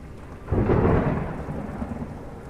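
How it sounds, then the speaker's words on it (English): Thunderstorm with a deep rolling thunder rumble swelling up suddenly and fading slowly over steady rain, heard close and fairly loud with no voices. "A storm gathers."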